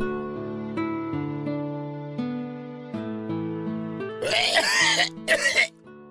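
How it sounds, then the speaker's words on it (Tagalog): Harsh, rough coughing erupts in two bursts over soft sustained background music, fairly close and loud. "grabe naman yung ubo mo"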